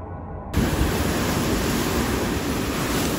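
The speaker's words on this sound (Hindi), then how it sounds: "ये देखो भाई लहरों की आवाज़" Ocean waves in the Drake Passage, heard from a ship at sea, come in as a loud, continuous broadband roar of surf and wind that starts abruptly and then holds steady. No one speaks.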